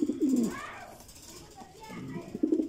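Racing pigeons coo in a loft, low throaty rolling coos at the start and again near the end, close and moderately loud, with a person talking in between.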